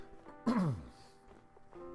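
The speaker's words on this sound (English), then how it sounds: "Clear my throat real quick." A man clears his throat once in a short, rough, descending rasp that is loud and close, followed by quiet breathing and room noise.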